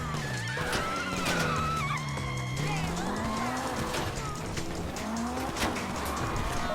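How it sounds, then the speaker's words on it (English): A getaway car is driven in Grand Theft Auto V on PS4 during the Fleeca Job heist. Its engine revs rise and fall through repeated gear changes, with a steady background of game noise. "Should have let me drive this car"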